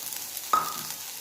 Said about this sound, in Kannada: ಪಾತ್ರೆ ಬೆಚ್ಚಾಯಿನ ದುಕ್ಕದುಲೆ ಎಂಕ್ಲು ನೀರುಳ್ಳಿ ಪಾಡೊಂದುಲ್ಲ